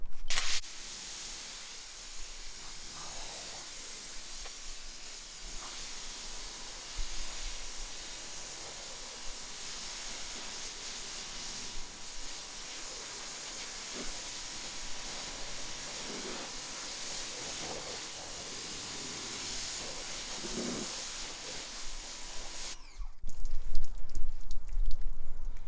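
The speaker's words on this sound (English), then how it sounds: "We're gonna hose it off though." A garden hose sprays water across car paint to rinse off thick Chemical Guys Sticky Snowball Ultra snow foam, giving a continuous hissing spray with small splashes that runs at a steady level before cutting off abruptly near the end.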